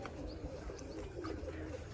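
Soft, low pigeon coos from a race-winning female pigeon blend into steady, dense background noise, with a few faint chirps rising above it throughout.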